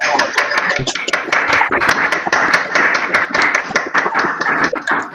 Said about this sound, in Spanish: prendamos los micrófonos para que se oiga el aplauso para Alexander